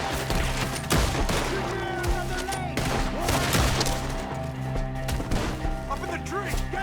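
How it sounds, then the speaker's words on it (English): Gunfire erupts in a Red Dead Redemption 2 shootout, with dense volleys of shots fired at enemies up in the trees, crackling continuously and loud over game music and effects. "Shoot the ones up there first!"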